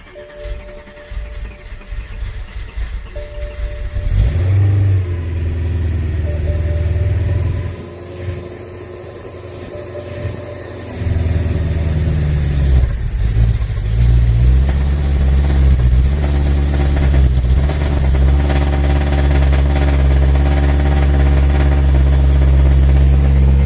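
A BMW E92 M3 engine cold-starts, cranking and catching, then settles into a steady, loud idle that runs on close by with a deep, continuous rumble.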